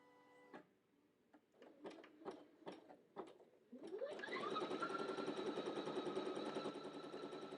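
An embroidery machine starts stitching after a series of scattered clicks and clacks, then settles into a steady, rapid mechanical whir and chatter with a rising motor tone, close and continuous.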